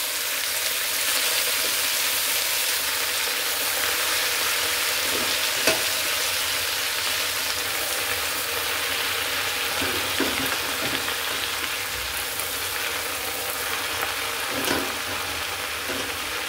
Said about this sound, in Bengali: চুলা অফ করে আমি শাকগুলো দিয়ে দিচ্ছি, নাহলে কিন্তু রসুন বেশি পুড়ে যাবে।